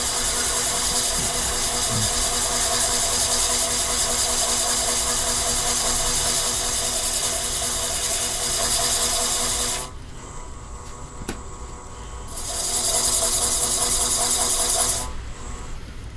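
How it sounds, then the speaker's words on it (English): Sandpaper pressed against a spinning wooden bowl on a wood lathe gives a steady broadband hiss over the motor's hum, with a short softer break before the full loud rasp returns, no voices. "I'm going to sand up through the grits"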